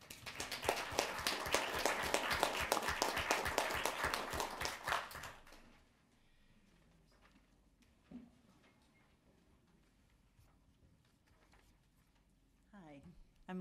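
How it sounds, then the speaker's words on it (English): Audience applause at a city commission meeting honoring a retiring Parks and Rec board member: a steady burst of clapping for about five seconds, then it stops and the room goes quiet apart from faint movement and a brief voice. "if we could all maybe give him a round of applause, I think he deserves it"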